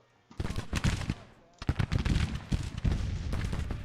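Musket volleys and artillery in an 1862 Civil War game rattle out in dense bursts of cracking shots and booms, starting after a brief quiet and pausing once.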